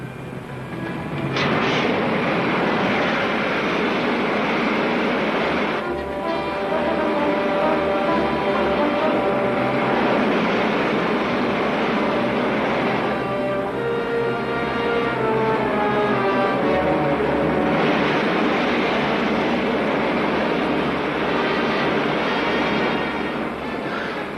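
Rocket ship main jets roaring for a sci-fi serial, a loud, sustained rumbling blast with wavering whistling tones that surges and dips but never stops, alone without voices.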